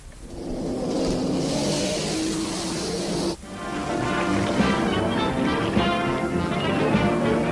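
The Mach 4 race car from the Speed Racer cartoon roars with a loud, steady engine rush that cuts abruptly midway and then resumes at full strength.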